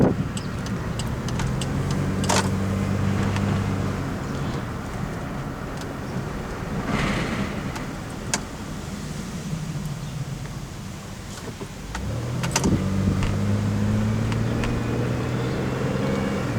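A 1998 Oldsmobile Intrigue drives through village streets, its engine humming and rising with gear changes under steady road and cabin noise, with a few light clicks and rattles inside the car.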